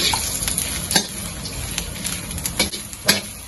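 Mushrooms and vegetables frying in about two tablespoons of oil in a dry wok, a steady close sizzle with scattered stirring scrapes and clacks throughout.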